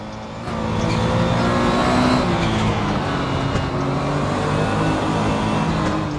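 Race car in Assetto Corsa driven on track with left-foot braking, a loud sustained engine roar with steady harmonic drone and faint tire noise, continuous throughout.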